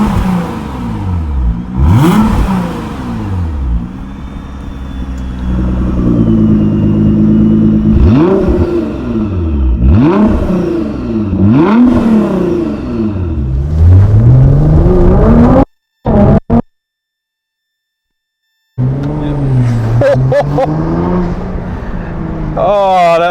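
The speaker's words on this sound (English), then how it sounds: "V6 twin turbo is life, especially when it's in a GTR. Absolutely gorgeous sound." A Nissan GT-R with a V6 twin-turbo and Fi exhaust revs repeatedly and loudly up close, each blip rising and falling in a throaty surge, then a brief silence before the revving picks up again.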